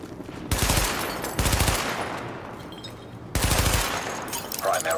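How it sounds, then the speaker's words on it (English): Bursts of automatic gunfire hit highlighted targets during a weapon test in the video game The Division. Three loud volleys come close together, separated by brief pauses and trailing echo, with a faint electronic voice in the background. "Open fire at the highlighted targets."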